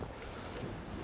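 A stiff downstream wind buffets the microphone by a river in a steady, rushing roar, with a hint of water sloshing nearby.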